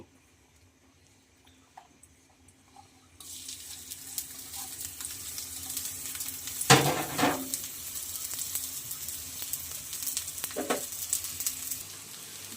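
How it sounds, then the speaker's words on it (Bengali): Chopped onion, garlic and green chili go into lightly heated oil in a kadai, with quiet near-silence that gives way to a sudden steady hissing sizzle, plus a few louder clattering stirs partway through, close up and with no talking. "তেলটা হালকা গরম হয়ে গেলে আমি পেঁয়াজ কুচি রসুন কুচি কাঁচামরিচ আমি তেলে দিয়ে দিব"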